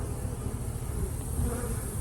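Honey bees buzz steadily around beehives at an apiary, a dense, continuous close-up drone with no talk.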